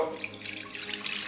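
Liquid, a litre of vinegar, pours steadily into a cooking pot, a continuous splashing rush that stays close and fairly loud with no talk over it.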